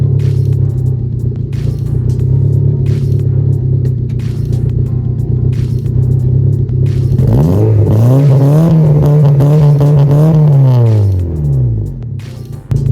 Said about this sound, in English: I'm gonna rev it so you guys can hear how bad it really sounds